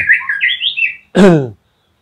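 A magpie robin sings a quick run of varied, whistled chirps close by, followed by one short, louder harsh call, then silence.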